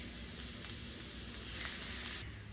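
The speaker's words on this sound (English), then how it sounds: "I'm going to drop in these, it's like a half a cup of minced onions." Minced onions hitting a hot pan while making butter chicken, a soft continuous sizzle with a slight swell partway through, fairly quiet and without talk.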